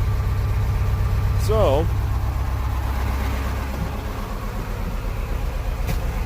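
Detroit 8.2L diesel engine with a misfire and smoke, running with a rough, uneven low rumble close by, while someone briefly speaks over it.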